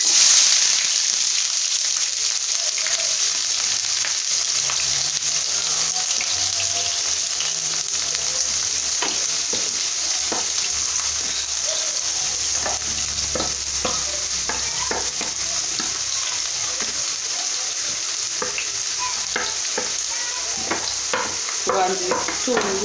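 Onions frying in oil in a pan with a continuous close sizzle and repeated scraping stirs throughout, no talking.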